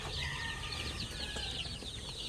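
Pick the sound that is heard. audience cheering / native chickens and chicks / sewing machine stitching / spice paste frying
native chickens and chicks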